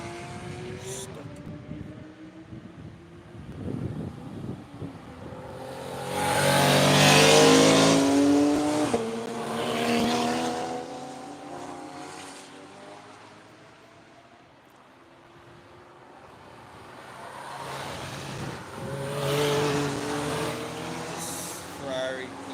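A Ferrari 430 engine revs hard as it passes, its rising and falling roar swelling loudly near the middle and fading, then a second pass builds again toward the end.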